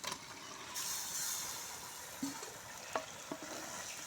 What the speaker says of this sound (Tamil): இப்போ நம்ம எடுத்து வச்ச வாத்துக்கறி வந்து போட்டுடலாம்